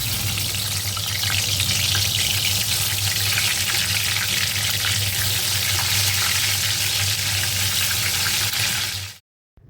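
Aubergine slices frying in a pan in a home kitchen, a steady loud hiss and sizzle that runs unbroken for nearly ten seconds before cutting off abruptly.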